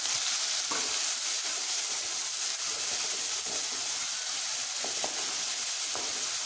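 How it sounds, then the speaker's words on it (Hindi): Garlic and ginger paste frying in a pan gives a steady bright sizzle, with a few soft scrapes of stirring breaking through; close and continuous, no voices. "लहसुन और उसका अदरक का पेस्ट डाल रही हूँ। इसको अच्छे से मिलाना है।"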